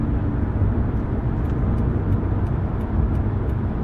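Mahindra Thar petrol engine with a manual-mode gearbox, heard as a steady, loud low rumble that holds throughout with no distinct rise in pitch.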